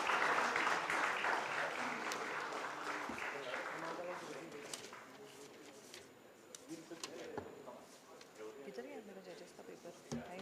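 Applause from an audience rises early and tapers off, with scattered voices and room noise continuing beneath it.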